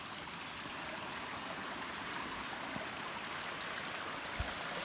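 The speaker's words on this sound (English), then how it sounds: "we've got another water crossing over here." A stream rushes steadily at an Appalachian Trail water crossing, a continuous broad wash of flowing water, close and even, with a couple of faint knocks and no voices.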